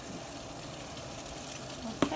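Onions and seasoning powder frying in a pan, a soft steady sizzle with light crackle, ending in a brief sharp clink near the close.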